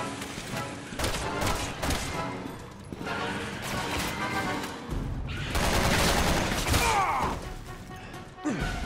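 Resident Evil 6 video game gunfire: bursts of shots and crashing impacts in uneven waves under game music and effects, with a brief voice mixed in.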